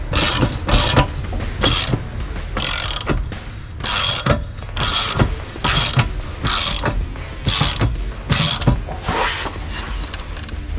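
Ratchet wrench tightening the propeller nut on a Mercury Optimax 225 outboard during a prop replacement, with a dozen rapid bursts of loud metallic clicking in steady strokes, close up and with no talk.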